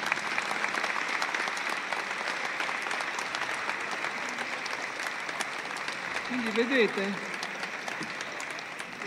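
Sustained applause from a conference audience at the Palazzo Ducale fills the space, a dense steady clatter of clapping, with someone briefly speaking over it.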